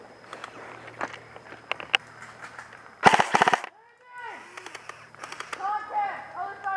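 Airsoft BB guns fire during an outdoor skirmish. Scattered single pops lead into a sharp burst of rapid shots, and a few more cracks follow. Players shout and talk around the shooting.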